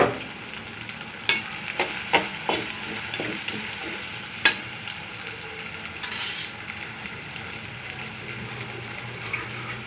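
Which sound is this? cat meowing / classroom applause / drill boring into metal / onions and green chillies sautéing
onions and green chillies sautéing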